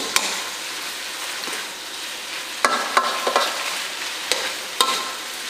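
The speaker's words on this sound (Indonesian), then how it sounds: "Kita aduk-aduk terus." Stir-fried broccoli and cauliflower sizzle steadily in a pan while a utensil scrapes and stirs, with several sharp clinks against the pan over the soft, continuous frying hiss.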